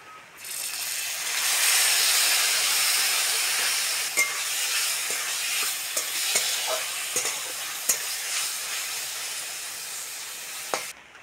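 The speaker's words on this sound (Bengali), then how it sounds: "রসুন দিয়ে ওল্লাটাটা ভালো করে ভেজে নিয়েছে" Boiled elephant-foot yam stalks frying with crushed garlic in hot oil, a loud close sizzle that flares up and then settles, broken by scattered scraping stir clicks.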